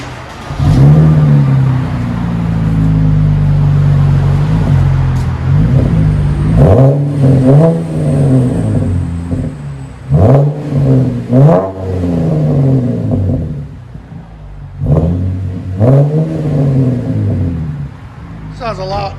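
Chevrolet Camaro with a 3.6L V6 and MagnaFlow exhaust revs repeatedly from a deep, loud rumbling idle, each blip rising and falling in pitch, close by; voices can be heard faintly now and then.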